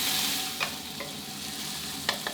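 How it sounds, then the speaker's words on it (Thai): Chili, garlic and shallots stir-fried in a wok over medium heat: a constant loud sizzle broken by a few sharp scrapes and clacks of a spatula against the pan. "ผัดให้ออกกลิ่นหอมดีเลยนะครับ"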